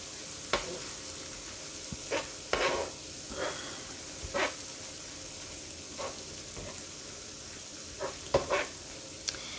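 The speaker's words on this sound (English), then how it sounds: "Once it gets pink on one side, just flip it over and go and cook the other side" Shrimp sizzle on a hot hibachi griddle with a steady background hiss, broken by occasional scrapes and taps of a spatula as the pieces are stirred and flipped, close by.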